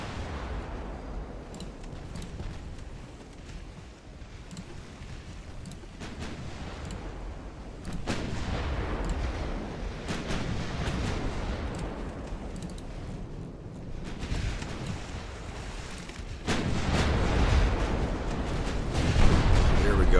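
Naval guns firing in the warship game Ultimate Admiral: Dreadnoughts, deep booming blasts rolling out at intervals over a constant low rumble, growing louder toward the end with no clear talk.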